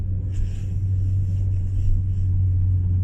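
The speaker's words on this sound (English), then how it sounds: "Uh-oh, he's in his truck. He's about ready to take off." A truck engine idles in a foggy Walmart parking lot before driving off, a steady low close rumble with a droning hum and faint higher noise above it.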